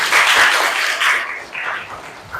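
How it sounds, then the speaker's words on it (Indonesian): Schoolchildren clap in a classroom during a lesson, a burst of brisk, dense hand clapping that fades into scattered claps over a couple of seconds, fairly close. "Tepuk tangan untuk kita semua."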